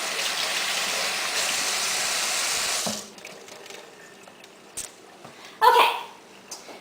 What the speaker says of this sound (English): Get a little rinse on my hands